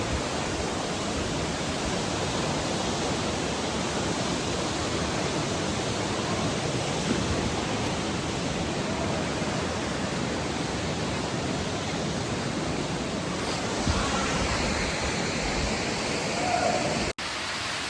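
Paltau waterfall in the rain pours as a steady, loud broadband rush of falling water that fills the whole stretch without pause, ending abruptly.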